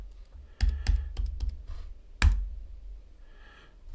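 Computer keyboard typing in short bursts of sharp clicks, several quick keystrokes near the start and a single louder clack midway, recorded close with no talking.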